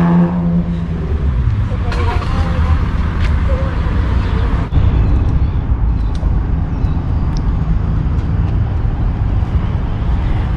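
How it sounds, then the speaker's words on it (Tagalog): Busy road traffic in Newcastle, New South Wales, with cars passing in a steady, loud roadside rumble and a few sharper swells as vehicles go by close to the listener. "So kagaya nyo no, busy yung road dito"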